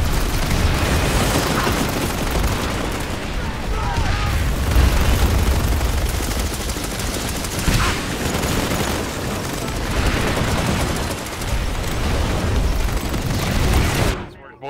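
Grenade explosions and heavy gunfire in a nighttime military video game match, loud and continuous, with booms and rattling bursts layered over each other and voices talking intermittently beneath the combat.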